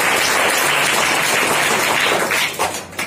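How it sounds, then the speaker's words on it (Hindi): A group of people applauds in a dense burst of clapping that holds steady, then thins and tapers off at the end. "तो मैम लोग के इंट्रोडक्शन से पहले ताली बनती है।"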